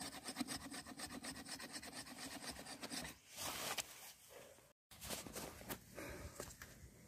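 Steady back-and-forth rasping of a hand saw biting through wood, strokes repeating rhythmically up close, with a brief pause partway through.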